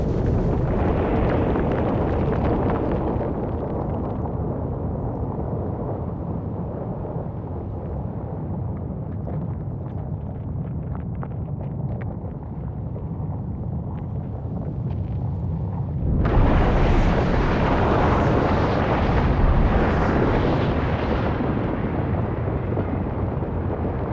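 A volcano erupting with a continuous, heavy roar of explosive blasts, loud and close, swelling sharply louder partway through with no voices.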